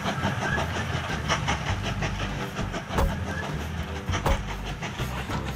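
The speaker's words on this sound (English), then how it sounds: "There's 2 lumber trains rolling." Two lumber trains rolling along the rails in the video game Mashinky, a continuous rumbling roll with rhythmic clicks and clanks, moderately loud with no talk.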